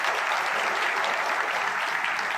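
A large crowd of young people at a political rally in Hayathnagar applauds, a dense, even wash of clapping that stays steady and loud from start to finish.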